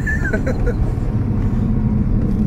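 A VW Golf Mk7 GTI drives down a road, its engine giving a steady, loud low rumble mixed with road and wind noise throughout, with some brief higher tones near the start.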